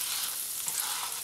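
Butter sizzling in a pan before crêpes are cooked, a steady close hiss with no talking.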